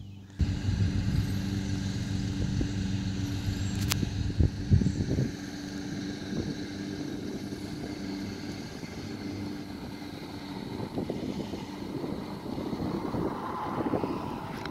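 Someone rides an Onway 26-inch fat tire e-bike with a 750W Bafang mid-motor on 48 volts, producing a steady low motor and tire drone with wind rush, and a brief sharp tick early on.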